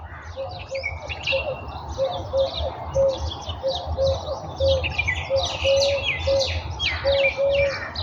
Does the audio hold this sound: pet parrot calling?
yes